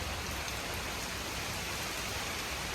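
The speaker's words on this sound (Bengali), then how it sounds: "দেখেন কেমন বৃষ্টি নেমে গেছে, দেখছেন?" Steady rain falls outdoors on a cloudy day, an even, dense patter of drops on surfaces, moderately soft and constant throughout with no voices.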